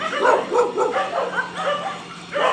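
A dog on a walk meets another dog nearby, which gives a run of short yips and barks with whimpering tones. The calls repeat in quick, uneven bursts at moderate loudness, close to the listener.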